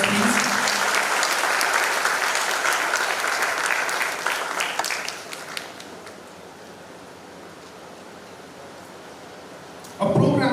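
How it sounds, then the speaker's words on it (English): A full round of audience applause at a live speaker event, loud at first, then thinning to scattered claps and fading into quiet room tone before a sudden noise at the very end. "Can we have a loud round of applause, please?"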